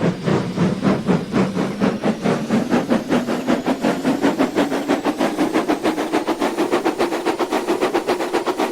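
Rapid rhythmic chuffing of a steam locomotive in a video game, pulling a light train of salt vans, the beats steadily quickening as a low tone rises, loud and continuous without voices.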